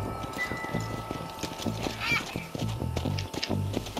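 Horse hooves gallop in a rapid clip-clop rhythm in the Red Dead Redemption video game, steady and close throughout, with a horse whinny and a person talking over the hoofbeats.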